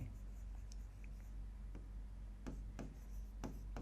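Chalk or marker writing on a board during a biology lesson, a few short scratchy strokes and taps spaced irregularly over a steady low room hum, near and fairly faint.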